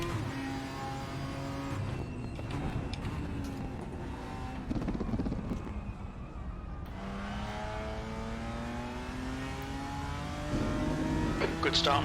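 Porsche GT3 race car engine in the RaceRoom racing game, revving and climbing through gears in repeated rising whines with shifts between them, moderately loud, with a voice talking over it at times.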